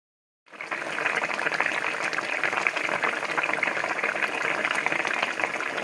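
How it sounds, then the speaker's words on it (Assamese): A pot of chicken bubbles vigorously at a steady rolling boil, starting abruptly and continuing with a dense, even hiss of bursting bubbles. "এই চিকেনকণ ধুনীয়াকৈ উতলি আছে, ভক ভককৈ দেখিছেনে নাই?"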